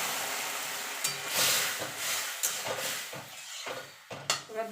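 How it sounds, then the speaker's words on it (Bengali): Boiled bottle gourd tipped into a hot pan with turmeric, a steady loud sizzle and frying hiss broken by repeated scrapes and clinks of a utensil stirring against the metal pan, close by and with no talking. "এবার যে লাউটা সিদ্ধ করে রেখেছিলাম সেটা ঢেলে দেবো।"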